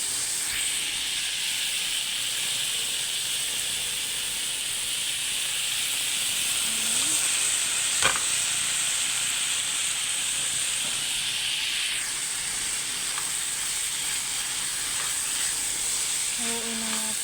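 Broccoli stirred in a hot frying pan with chicken and salmon butter garlic, a steady bright hiss of sizzling throughout with a faint scrape around the middle and no talk.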